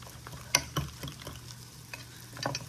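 Sharp cheddar cheese being stirred into a mixture, with a few scattered scraping knocks and soft scrapes over a low, steady background hum.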